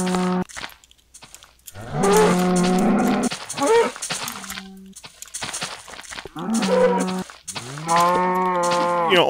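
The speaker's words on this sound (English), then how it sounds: "only in Minecraft is there going to be mountain cows" Mountain cow in the Minecraft video game mooing repeatedly, with several loud, drawn-out lowing calls separated by short pauses and no talk over them.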